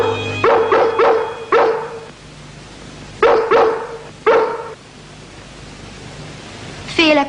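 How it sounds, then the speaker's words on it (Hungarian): Dogs in a cartoon set in a cold London neighbourhood bark in bursts of three or four sharp barks, a pause, then another burst and a final yip, fairly loud over a steady hiss with no talking. "Az esti sétán majd riasztjuk a környék kutyáit."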